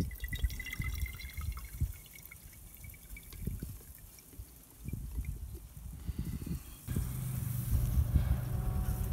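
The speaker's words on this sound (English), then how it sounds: "I'm just gonna pour it in with this 1/3 cup of water and strain the seeds and some of the pulp out" Grapefruit juice and a third cup of water pour through a strainer, soft irregular drips and trickles giving way to a steadier liquid stream near the end, quiet and close.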